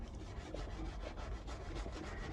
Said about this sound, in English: you can just hear it's picking up little bits here and there